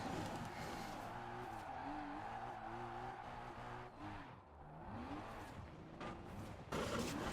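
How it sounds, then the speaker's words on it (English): A 1994 Honda Prelude drifts in Forza Horizon, its engine droning with a wavering, rising and falling pitch while tires squeal and skid, all heard fairly faintly. "This is a really fun car to drift though."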